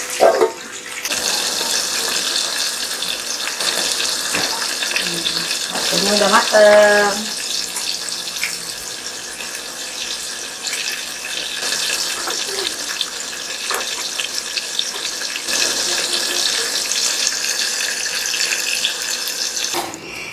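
Continuous loud sizzling and spattering of chili sambal ingredients (orange bird's eye chilies and red chilies) frying in a pan fills the whole stretch, with brief clinks and a short spoken remark partway through.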